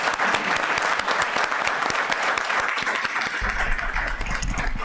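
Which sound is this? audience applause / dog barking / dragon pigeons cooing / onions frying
audience applause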